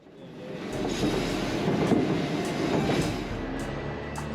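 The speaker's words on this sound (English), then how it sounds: "here's the train that we're on, going up to White Pass" Passenger train climbing toward White Pass, a steady low rumble of wheels and carriage with faint rhythmic clicking and some wind buffeting the microphone, continuous throughout.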